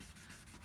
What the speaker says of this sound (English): Kind of like sanding here, basically sanding plastic.